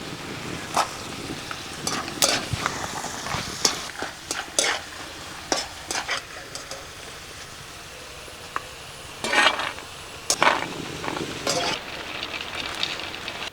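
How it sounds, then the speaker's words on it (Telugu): Peanuts and then cashews frying in oil in a pan for pulihora, with a soft sizzle and scattered scraping stir strokes that are sharp and close, denser near the end. "ముందుగా పల్లీలు వేసుకుందాం ఈ పల్లీలు ఎయిటీ పర్సెంట్ వేగిన తర్వాత జీడిపప్పు కూడా వేసేసుకుందాం"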